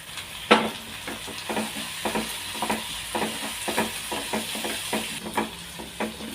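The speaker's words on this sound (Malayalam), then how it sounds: "ഉള്ളി ചെറുതായിട്ടൊന്ന് വഴന്ന് വന്നിട്ടുണ്ട്. ഒരു ടീസ്പൂൺ ഇഞ്ചി വെളുത്തുള്ളി പേസ്റ്റ് ഇട്ട് കൊടുത്തിട്ടുണ്ട്." Onions with ginger-garlic paste sauté in a hot pan, a soft steady sizzle broken by regular scraping stirs of a spoon, close and moderately quiet, no voices.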